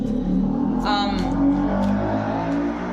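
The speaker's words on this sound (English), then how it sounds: "this fucking motorcycle, do you hear this?" A motorcycle passes close by, its engine a loud, rough roar that swells with a brief revving rise about a second in and then drones on steadily, drowning out the background.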